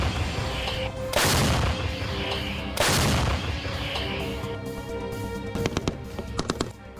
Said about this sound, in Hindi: रूस के कब्जे वाले इलाकों में यूक्रेन के सैनिक लगातार पलटवार कर रहे हैं, गोलीबारी करते दिख रहे हैं।